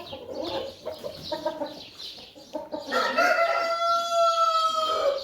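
Farm chickens cluck in short rhythmic bursts, then a rooster crows loudly with long drawn-out calls, all fairly close, with no one talking.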